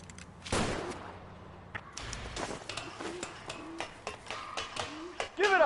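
Gunfire in a PS4 video game: a loud opening burst, then a run of sharp shots and pings at uneven intervals, with game voices and sounds in the mix.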